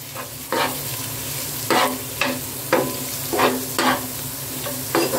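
A spatula stirring potatoes and masala in hot oil for street-style dabeli: about eight sharp scraping strokes at an uneven pace, close and loud, over a continuous frying sizzle.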